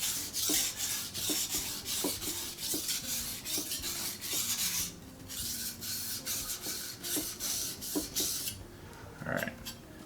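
A knife blade scraping across a whetstone in steady, rhythmic rasping strokes, close and distinct, each push and pull repeating without talk.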